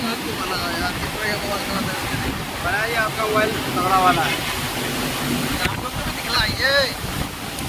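Water rushes through the Kosi barrage gates in Nepal, a constant loud roar filling the whole stretch while people talk over it.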